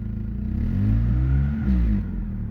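The engine of a Mazda MX6 Turbo revs up and falls back in a short, close, fairly quiet blip, then settles.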